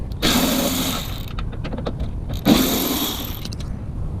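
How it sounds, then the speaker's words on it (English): A power tool loosens number 30 Torx head bolts holding the power door lock mechanism inside a first-generation Toyota Tacoma door, two close whirring bursts each lasting about a second, separated by rattling and clicking. "I'm going to loosen these three Torx head bolts to free the mechanism right here"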